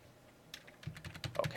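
Fingers tap on a computer keyboard in a quiet room, a faint, irregular run of clicks that grows a little busier toward the end.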